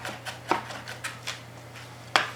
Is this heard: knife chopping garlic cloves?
yes